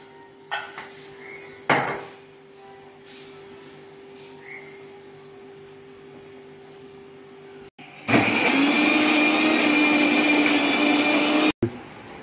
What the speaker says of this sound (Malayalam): മാരിനേറ്റിനു മുമ്പായിട്ട് ആവശ്യത്തിനുള്ള എണ്ണയും കൂടെ ഒഴിച്ച് അതിനെ അരച്ചെടുക്കാം.